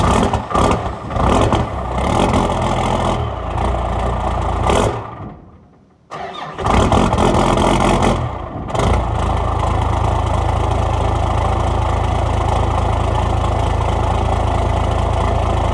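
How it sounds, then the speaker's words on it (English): A 12 valve Cummins diesel in a stick shift pickup truck cranks hard and smoky, sputters, briefly dies away, then catches and settles into a loud, steady, even idle that holds close by to the end. "Bit of a hard, smoky startup."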